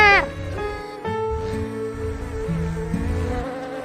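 A cartoon bee buzzes as its wings flap quickly, with wavering, tonal drones that rise and fall alongside bright animated sound effects in a children's insect animation.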